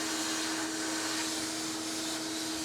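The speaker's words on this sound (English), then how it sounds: "turn your shop vac off" Shop vac running continuously alongside a sandblaster in a community motorcycle garage, a steady whining roar with a constant high hum, unbroken and moderately loud, with no talking.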